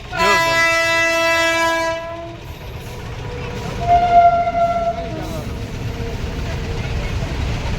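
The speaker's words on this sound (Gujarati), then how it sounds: "ફાઇનલી અડધી કલાક બાદ ટ્રેન આવી ગઈ છે." A train horn blares in long, loud tonal blasts at a busy village railway crossing, then sounds again more briefly as the train rolls past with a steady rumble. Voices are faintly present.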